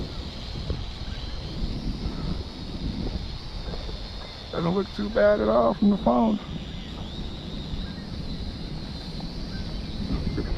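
Constant strong wind roars and buffets a drone's microphone throughout, with a brief stretch of someone speaking partway through.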